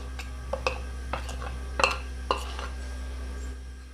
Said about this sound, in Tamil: இப்போ இந்த மீனில் இந்த மசாலாவை பூரா போட்டு சேர்த்து கிண்டிக்கிடலாம்.